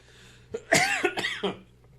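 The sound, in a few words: cough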